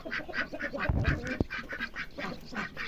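A duck quacks repeatedly in a rural garden, a regular string of nasal calls close by, with a couple of brief knocks in the middle.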